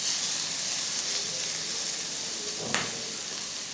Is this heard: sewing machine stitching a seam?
no